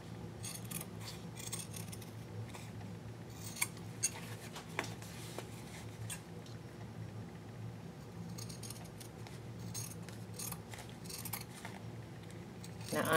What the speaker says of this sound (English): I'm just going to go around with my scissors